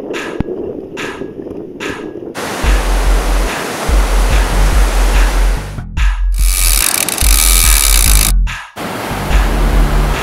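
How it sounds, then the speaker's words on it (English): Ocean surf breaking on a clean beach, loud continuous wash and roar of waves with heavy low wind buffeting and a few brief gaps, no speech. "we got clean beach, beautiful surf, fairly clear water"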